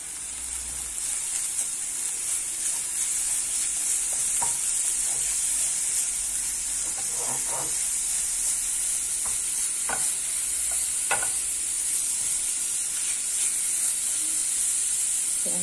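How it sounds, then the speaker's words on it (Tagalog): Carrots fry and are stirred in a pan for a chicken sandwich, giving a steady broad sizzle and hiss throughout, with scattered scraping stir clicks from a utensil near the mic and no talk. "Ilagay na natin ang ating carrots."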